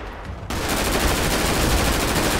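Rapid automatic gunfire in the GTA 5 video game bursts in after a half-second of lower noise, then continues as a loud, dense, rattling stream of shots with no talking.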